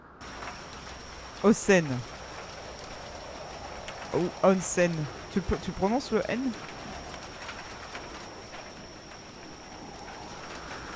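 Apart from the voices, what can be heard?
rain, wind and storm in a video game (The Bathhouse, Chilla's Art)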